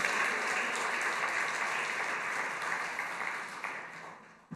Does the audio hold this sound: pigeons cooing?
no